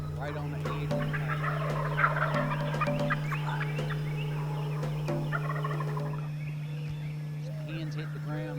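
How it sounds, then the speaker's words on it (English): Wild turkey gobblers gobbling at dawn, several loud rattling gobbles overlapping nearby over a steady electrical hum, with quieter clucks and birdsong toward the end. "Birds start gobbling right on the edge of the"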